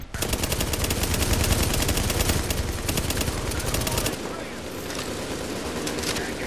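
Rapid automatic gunfire from The Division, dense and loud, runs nearly unbroken for about four seconds, then thins to scattered bursts and quieter shots under a steady wash of noise.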